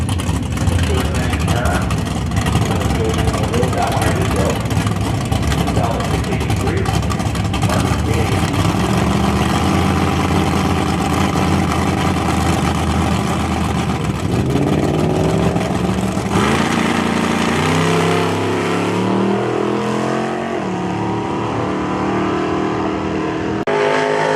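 A Mustang GT street car runs at a drag race at Grand Bend Motorplex during the Canadian Nationals, its engine loud and revving hard through the gears, with a commentator talking over it.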